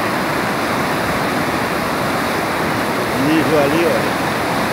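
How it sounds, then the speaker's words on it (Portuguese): Water pouring heavily down a dam spillway, about 40 centimetres deep, makes a steady, loud, broadband rush that fills the whole stretch, with someone briefly speaking over it near the end. "Mais ou menos 40 centímetros de água descendo."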